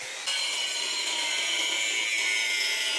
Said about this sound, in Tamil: கிரைண்டிங் மிஷின் இந்த மாதிரி வச்சுட்டு சுற்றி சுற்றி கட் பண்ணோம் அப்படின்னா ஈஸியாக வந்து கட் பண்ணிடலாம்.